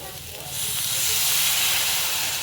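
A little water hits a hot pan of mashed aubergine and potato, setting off a loud, steady hissing sizzle that rises quickly and holds; a voice is faintly heard at the start.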